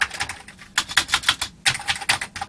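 Keys on a Commodore C16/Plus4 computer keyboard clack in quick bursts of typing, with a short pause between runs, close and crisp with no voices.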